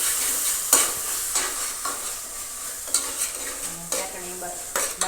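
A spoon stirs chutney with sugar in a hot pan, giving intermittent scraping and clinking strokes over a soft sizzle, close by and without talk.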